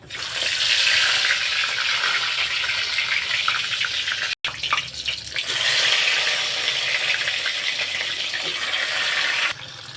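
Hilsa dried-fish fritters dropped into hot oil sizzle with a loud, steady hiss close by, broken by one brief gap and then continuing without letup.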